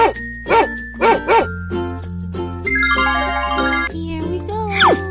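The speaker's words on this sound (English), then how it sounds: "Dog." A dog in an animal rescue escape-room video game lets out a few quick, bright yips, followed by chiming, tinkling game sound effects and a rising tone.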